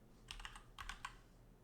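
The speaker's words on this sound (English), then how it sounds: "we're just going to type positive" A computer keyboard clicks in two quick bursts of keystrokes, close and fairly soft, with a short pause between them and a low steady hum beneath.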